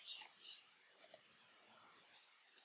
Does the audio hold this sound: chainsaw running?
no